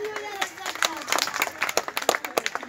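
A small group of people clapping at Patna zoo near a chimpanzee, irregular claps that build into quicker, louder bursts, with voices talking over them.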